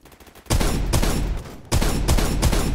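Rapid bursts of G3A3 rifle fire in the shooter game Phantom Forces, two loud sustained volleys of close automatic shots with a brief pause between them and no voices.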